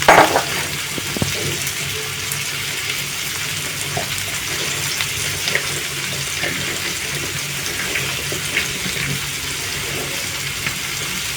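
Water pours steadily into a fish and onion mixture for a fish tagine with raisins, a continuous close splashing rush with no talking.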